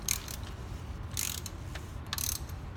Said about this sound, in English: And I'm going to loosen the housing.